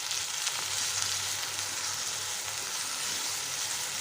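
Garlic, green chili paste and chopped tomato fry in a pan with a steady, dense sizzle that holds an even level throughout, fairly close and with no voices.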